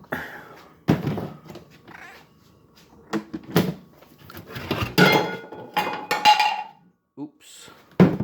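Cats meow at feeding time in a kitchen, with several short, close meows scattered among the clatter of dishes, cutlery and cupboard doors.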